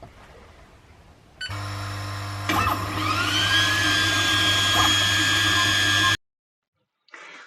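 An AlgoLaser Alpha MK2 laser engraver starts up with a loud, steady mechanical whir and hum, a rising whine settling into a sustained tone before it cuts off abruptly, followed by a brief faint noise.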